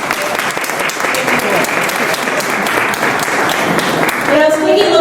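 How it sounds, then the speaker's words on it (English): Audience applause at a political spring reception, a loud sustained burst of many hands clapping that holds steady throughout and swells slightly near the end. "Applause everybody for Vic."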